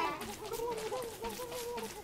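A turkey in the survival video game Don't Starve, gobbling and clucking in quick warbling bursts, faint and alone with no talk over it.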